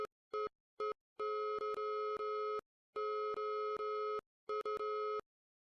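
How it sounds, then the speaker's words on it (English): A steady electronic tone keys on and off in short and long beeps, an irregular Morse code pattern, clear and alone with no voices. "It's in Morse code."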